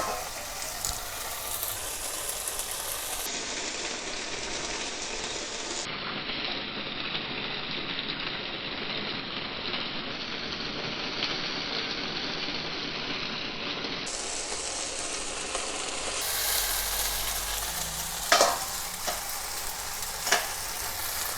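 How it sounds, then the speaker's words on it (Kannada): Cooked noodles are tossed into a hot pan of tempering for veg hakka noodles, sizzling steadily with scraping and rattling stirs, a few sharper clanks toward the end. "ಇದಕ್ಕೆ ನಾವೀಗ ನೂಡಲ್ಸ್ ಹಾಕ್ಕೊಂಬಿಡೋಣತ್ತ"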